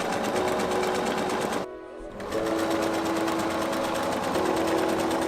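A sewing machine stitching fabric for a simple windsock, a fast loud rhythmic mechanical chatter with a brief pause midway before running on steadily.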